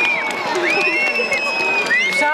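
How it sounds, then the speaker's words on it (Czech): A crowd in Plzeň claps, cheers and whoops as the Christmas tree lights up, with excited children's shouts and a presenter's amplified voice over the noisy applause. "Zatleskáme našemu krásnému plzeňskému stromečku."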